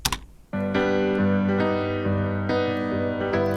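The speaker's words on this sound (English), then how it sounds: "So the original piano actually sounds like this." Sustained piano chords ring out after a brief clatter, several struck in succession with rich, full tones, close and clear.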